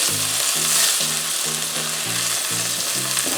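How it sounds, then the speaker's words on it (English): Ginger and garlic frying in oil in a pot over medium heat, a bright close sizzle with regular stirring strokes under it and no talking. "Then I put the ginger and the garlic. Stir that in."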